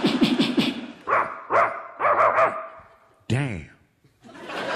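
A voice imitates a dog barking, a quick burst of loud woofs followed by several more bark-like yelps and a rising howl, close and energetic with other vocal sounds between.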